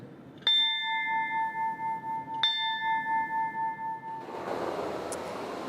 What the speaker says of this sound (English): the two-bell ceremony honoring the Pearl Harbor survivors who have passed away